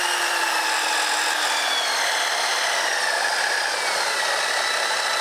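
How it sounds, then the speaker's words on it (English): Power tool with its blade turned down to low speed, a steady high whirring hum that stays constant and close, with no talk. "But look how slow that blade is spinning."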